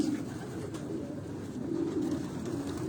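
A racing pigeon in a loft coos in low, soft, repeated rolling calls, close by, over a steady background hiss.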